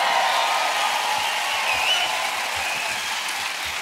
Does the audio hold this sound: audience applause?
yes